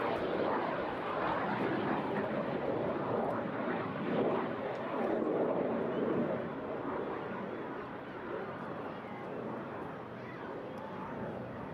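A Jet Provost trainer, formerly of No. 6 Flying Training School and now based at East Midlands Airport, roars steadily overhead at the Eastbourne airshow, a broad sustained engine noise that fades slightly toward the end.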